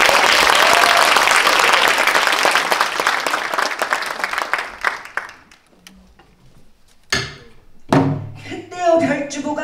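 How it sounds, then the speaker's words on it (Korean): Audience applause at a pansori performance of Sugungga breaks out loudly, then thins out and dies away after about six seconds, followed by a few scattered knocks and a voice speaking. "한번 박수 부탁드립니다"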